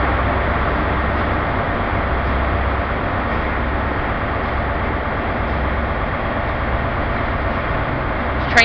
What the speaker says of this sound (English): departing, that's the 1446 Great Western Railway service to Penzance